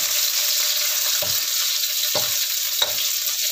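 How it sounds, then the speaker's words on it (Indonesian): Bay leaves and lemongrass, along with shallots and garlic, sautéing in a pan, giving off a steady, bright frying sizzle broken by three short scraping stirs. "Salam dan daun serainya, serai. Pokoknya tumis dulu sampai harum."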